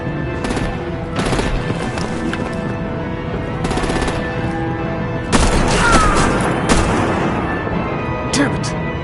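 Gunfire and artillery in Batman: The Enemy Within, with scattered loud bursts of shots breaking over a rumbling battle backdrop while voices speak throughout.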